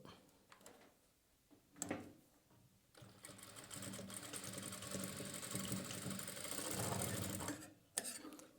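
A sewing machine stitches a cap's drawstring and its fabric edge: short mechanical bursts at first, then a steady, close, whirring run of rapid stitching that stops abruptly near the end.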